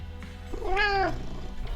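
A cat gives a single drawn-out meow that rises and falls, heard alone and close over a low background hum.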